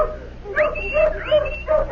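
Hounds barking and yipping in a radio drama search scene, several short, bright barks in an uneven rhythm at moderate distance over a faint background murmur.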